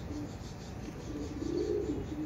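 Pigeons at a pigeon club housing around 1500 birds coo in soft, low, continuous murmurs against steady background noise, with one fuller coo swelling near the end.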